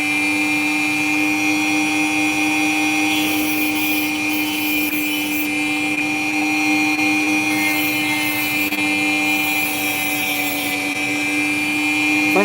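A lapidary power tool cuts and shapes an opal, giving off a steady, loud, high motor whine with strong humming tones. The sound stays even throughout, with no talking.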